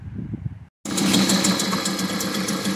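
A Mercury 3.3 outboard motor on a Pelican Bass Raider boat cranks, falls silent briefly, then fires up and runs steadily with a loud, close buzzing drone.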